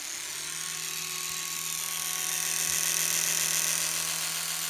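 A steady high-pitched whir from an Oral-B Smart 4 4000N electric toothbrush runs continuously, close and fairly loud, with a faint low hum underneath and no talking.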